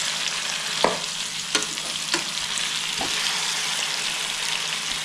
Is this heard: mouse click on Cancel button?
no